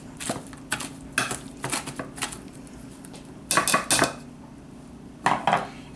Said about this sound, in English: So I usually just take a potato masher here and just mash them all up